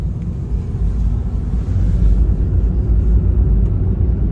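A car drives along a road in Greece, heard from inside as a steady loud low rumble of engine and tyre noise with no pauses.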